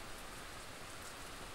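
A rain downpour falls on Spanish bush as a faint, steady, even hiss of drops with no other sounds standing out.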